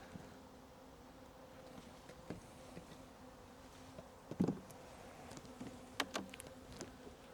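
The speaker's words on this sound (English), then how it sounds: "I think there's just lots of bees because they're robbing this out a bit." Honey bees robbing a dead-out hive buzz in a continuous low drone, with individual bees flying close past the ear now and then, and light rustling and taps over the steady hum outdoors.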